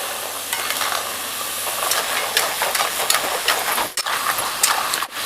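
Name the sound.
sugar-coated khurma frying in a pan, being stirred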